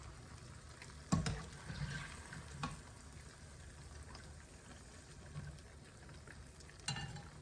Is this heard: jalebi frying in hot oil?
yes